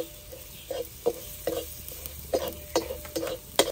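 Onion and tomato masala with turmeric, coriander powder and red chilli being stirred in a pan for a rustic cluster bean curry, a dozen or so spoon scrapes and stirs in an uneven rhythm over a faint steady sizzle.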